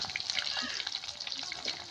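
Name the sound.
fish frying over a fire outdoors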